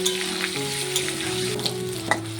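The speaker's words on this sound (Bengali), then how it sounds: "দেব একটু হলুদ গুঁড়ো দিয়ে আলুটাকে ভালোভাবে ভেজে নেব।" Potato pieces tossed with turmeric frying in hot oil for a Bengali mutton kosha make a continuous, bright sizzle with scattered crackles, over a faint steady tonal hum.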